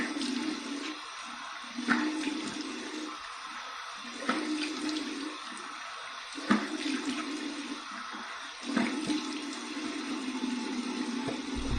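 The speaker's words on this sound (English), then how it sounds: "Cold water rinse." Cold tap water splashes and runs into a sink as someone rinses their face after a shave, a steady close rush with several louder splash bursts at irregular intervals.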